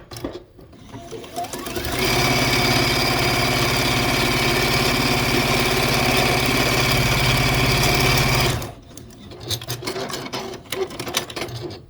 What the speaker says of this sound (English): So I'm just sewing these together.